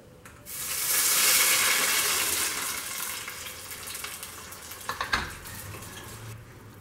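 Oil sizzles and crackles steadily in a small pot, loud at first and easing slightly, with a few sharper pops and spatters near the end and no talking.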